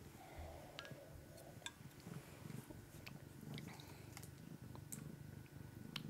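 A house cat purrs close by in a low, continuous rumble, quiet and steady, with a few faint clinks and small noises scattered over it.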